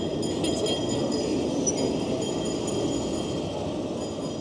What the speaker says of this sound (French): Voilà le fameux tram.